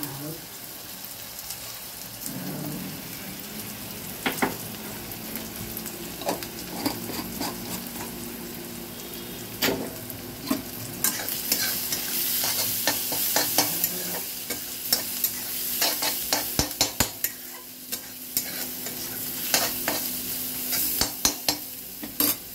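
Kashmiri chili frying with chole for chole ki sabzi, a steady sizzle with stirring scrapes and sharp utensil clicks throughout, moderately close.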